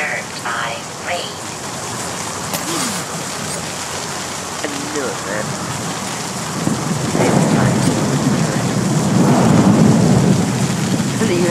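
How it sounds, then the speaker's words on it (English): Steady rain with low rumbling thunder in the video game The Solus Project swells louder toward the end, while a voice talks over it. "Dream disturbed by rain."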